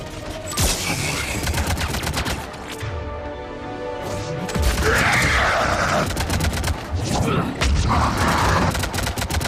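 Rapid gunfire bursts and heavy impacts from combat in the video game Mass Effect 3, on the Omega mission, loud and dense throughout, with a shouted voice among the shots.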